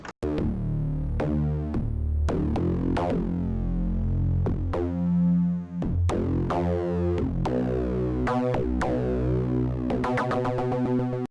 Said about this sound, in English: The bass part is here, it sounds like this.